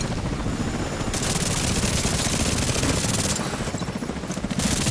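A helicopter in the video game The Division 2 roars loudly overhead, with dense rapid chopping and bursts of crackling gunfire layered over a constant heavy rumble.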